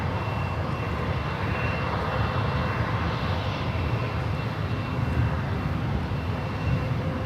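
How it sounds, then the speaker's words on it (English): American Airlines Airbus A321 jet at San Francisco International Airport, a steady broad engine roar holding loud and even throughout, with no voices over it. "It's an A321 with American."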